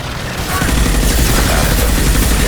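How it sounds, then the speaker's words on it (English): Gunfire fills a Mass Effect Legendary Edition firefight, with loud, dense bursts of rapid shots overlapping into a continuous volley after a brief lead-in. "Firing. Under fire."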